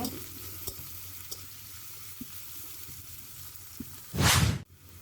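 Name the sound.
onion and chili frying in a pan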